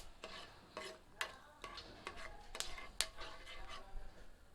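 Black pepper and whole cloves toasting in a small amount of oil for an egg curry, heard as soft repeated scrapes of a ladle stirring in the pan, with a faint sizzle underneath, quiet and close.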